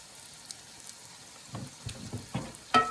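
Garlic and onions sautéing in hot oil in a pot for seafood gumbo, a quiet soft sizzle at first, then louder crackling bursts and a sharp clatter near the end.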